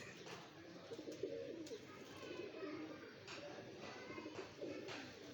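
Soft pigeon cooing repeats in low, rounded phrases against faint background murmur and rustling.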